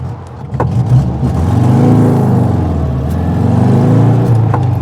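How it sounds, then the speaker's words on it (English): Close, loud cabin sound of a 1972 Volkswagen Beetle engine revved hard to pull away, a steady mid-pitched drone with a few light mechanical clicks. "I'm over revving it a bit there to get it to set off"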